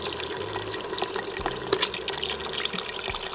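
Beef bone broth poured into an Instant Pot for short ribs, a close, steady liquid splashing and trickling with small drips.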